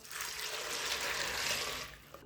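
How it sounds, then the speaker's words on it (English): Water poured into a bowl of beans in a home kitchen, a steady broadband splashing rush that runs for about two seconds, close and fairly loud, then stops abruptly. "Add some water."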